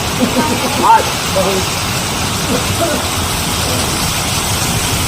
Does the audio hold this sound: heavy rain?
yes